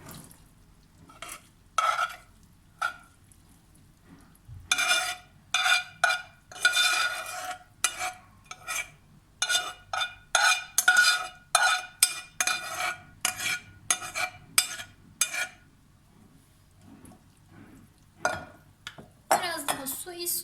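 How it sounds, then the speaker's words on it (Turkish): Lentils and bulgur poured into a pot and stirred, heard as a steady run of light scraping and clinking strokes of a spoon against the pot, fairly quiet with brief pauses between strokes. "Şöyle bir karıştırdıktan sonra mercimek ve bulgurumu da ilave ediyorum"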